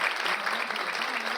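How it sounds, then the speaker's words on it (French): An audience at a church Bible study gathering applauds, a brief steady patter of many hands clapping at moderate distance. "Un applaudissement pour le frère."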